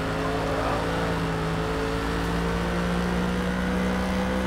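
An AMG GT3 race car engine in the Forza racing game holds a steady, loud, sustained drone with a constant pitch for the whole stretch, and no one speaks.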